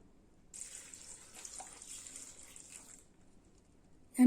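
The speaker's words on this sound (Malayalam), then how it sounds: "കുറച്ച് വെള്ളം ഒഴിക്കുക" Water is poured into jackfruit pieces in a pan, giving a thin splashing trickle for about two and a half seconds before stopping, fairly close and quiet, with no speech.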